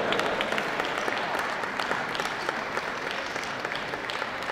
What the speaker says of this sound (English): Big round of applause, ladies and gentlemen, to our other five group winners